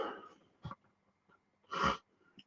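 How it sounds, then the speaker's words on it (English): One close, sharp sneeze bursts out after short breathy snorts, with a few faint sniffs around it in an otherwise quiet indoor space. "Oh my god, I'm gonna sneeze."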